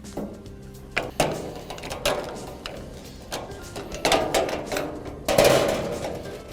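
A caster bolt on a Crown Verity unit is worked loose with a standard socket, giving a series of sharp metallic clicks, knocks and scraping clunks at close range, irregularly spaced and fairly quiet, with no talking.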